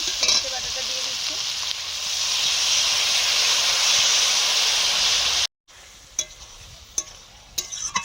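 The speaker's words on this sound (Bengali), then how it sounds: "ঢ্যাঁড়সগুলো কষা হয়ে গেছে, এবারে আমি সরষে বাটাটা দিয়ে দিচ্ছি।" Okra sizzles hard in a pan as mustard paste goes in, a loud, steady frying hiss for several seconds that cuts off abruptly, leaving a quiet background with a few faint clinks.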